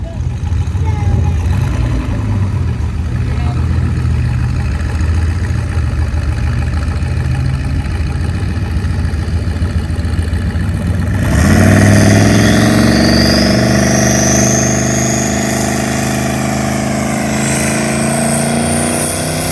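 A turbocharged Chevrolet Tahoe truck at a drag strip rumbles steadily at idle, then its engine note rises sharply partway through and holds at a higher, louder pitch with a whistling overtone before settling.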